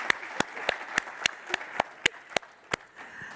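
Steady applause from an audience in a conference ballroom honoring award winners, with sharp, evenly spaced claps standing out over a soft bed of clapping for a few seconds.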